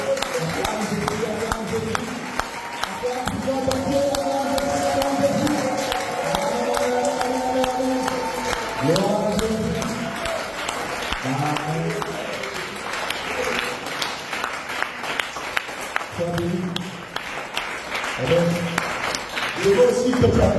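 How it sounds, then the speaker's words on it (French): A church congregation claps and cheers loudly for Jesus, sustained rhythmic applause with shouts, while a preacher talks over it. "Acclame Jésus."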